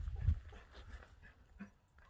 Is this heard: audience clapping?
no